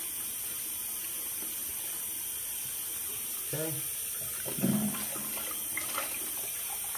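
Hot tap water runs steadily into a shaving bowl at a bathroom sink, a faint continuous wash with a few louder splashes near the end and a brief spoken word.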